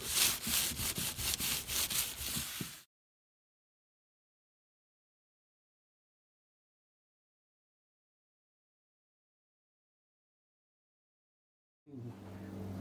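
Paper towel with hand cleaner is wiped over a Philco Predicta Tandem TV during restoration, making rapid rhythmic rubbing strokes for a few seconds, then a long silence before faint rubbing resumes.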